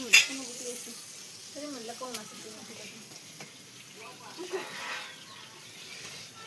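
Green chillies fry in oil over a wood-fired clay stove, a soft steady sizzle running under a woman's nearby chatter.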